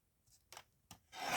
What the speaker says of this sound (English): I'm just going to cut it in half.